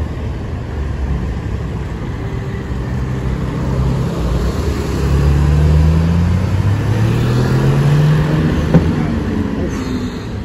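A Porsche GT2 RS accelerating in Monaco, its engine roar climbing through rising tones and swelling louder as it passes close, with traffic noise beneath.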